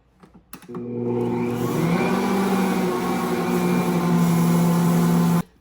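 Stand mixer kneading sourdough discard sandwich bread dough, a steady motor whir starting after a few soft clicks and running evenly for several seconds before cutting off abruptly.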